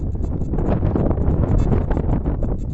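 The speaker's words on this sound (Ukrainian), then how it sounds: "Почався вітер" Gusty wind over an open field buffets the microphone in uneven bursts, a loud rumbling flutter with no voices.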